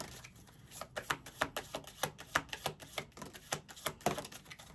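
Tarot cards being shuffled by hand, a quick run of crisp riffling snaps and flutters that rise and fall in uneven bursts, close and fairly quiet with no talking.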